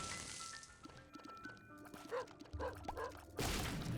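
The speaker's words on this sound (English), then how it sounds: "And you heard the barking, and there's the crawl space." A few short dog barks from The Binding of Isaac video game, marking a hidden crawl space, sounding as faint, muffled yips under game music and effects.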